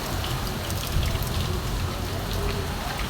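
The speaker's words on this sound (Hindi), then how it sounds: "ये देखिए कितनी तेज़ बारिश आने लगी है" Heavy rain pours steadily outdoors during a downpour, a dense, continuous hiss with a low rumble of drops hitting surfaces, loud and unbroken throughout.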